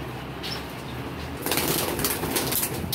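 Domestic pigeons, a hen among them, cooing softly before a sudden burst of wing flapping takes over, a loud rustling flutter that continues to the end, close by, with no one speaking.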